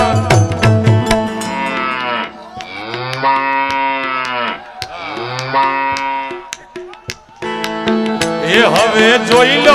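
A calf on a Kutch farm moos loudly and repeatedly, its long drawn-out bellows coming close to the microphone in several separate calls with short gaps between them and no talking.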